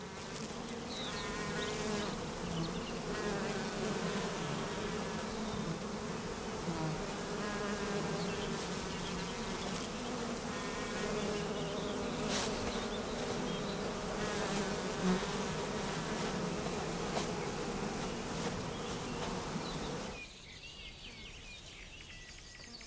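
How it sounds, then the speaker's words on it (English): Bumblebees buzz steadily and close in a Carpathian mountain meadow, a continuous droning hum with faint insect and bird sounds behind it, dropping off sharply near the end. "Bumblebees can defend themselves and sting."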